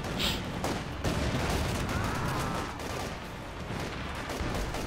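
Gunfire and artillery bombardment in the World War II strategy game Company of Heroes 2, with a church under shelling: dense, continuous rumbling battle noise with rapid overlapping shots and blasts, steady and loud throughout.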